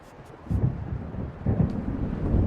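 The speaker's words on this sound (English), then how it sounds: "It seems there's a storm coming." A deep thunder rumble rolls in after a quiet half-second and swells in low, heavy waves through the rest of a stormy night scene in the video game Alan Wake, with no voices.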